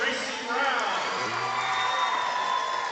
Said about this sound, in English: Crowd filling up.